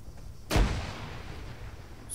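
A grenade blast in the military video game Arma 3 lands as a single heavy boom with a rumbling tail that fades over a second or so, set against low background ambience.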